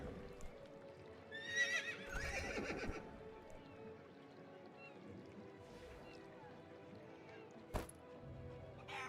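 A wild horse in the MMO game Quinfall whinnies with a quavering neigh early on, over quiet ambient game sounds with faint hoof clops and a sharp click later.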